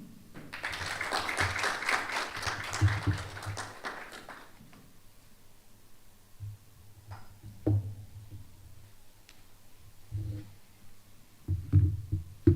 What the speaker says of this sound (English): Another round of applause for this amazing remarks